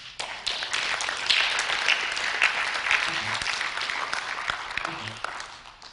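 A conference audience at BrandsConf 2011 breaks into sustained applause, dense clapping with a few sharper claps and faint voices underneath, holding steady for several seconds before tapering.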